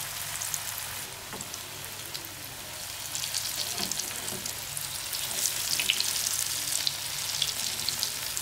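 Jackfruit-core tikia patties sizzle and crackle steadily in hot oil, a dense close frying hiss that swells slightly midway and runs without any talk.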